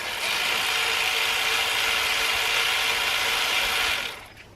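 Ratchet wrench working loose the 11mm bolts on the drive belt tensioner of a BMW M47/M57 diesel engine: a steady, close, continuous rapid clicking for about four seconds, then stopping.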